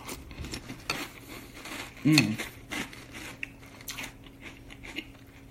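Someone bites and chews crunchy Thin Mints cereal in milk, giving soft irregular crunches up close, with a spoon clinking against a bowl and faint background noise.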